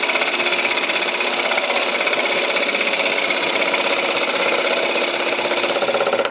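Gouge cutting across the bottom of a wooden bowl on a lathe, a loud, continuous rapid chattering rasp that holds steady throughout, with no talking.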